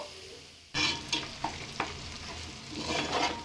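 Mutton fries in oil in a pan with a continuous close sizzle, broken by a few sharp stirring scrapes, the frying swelling louder toward the end.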